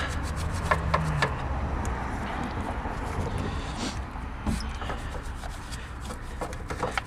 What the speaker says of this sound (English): Give all that a good scrub.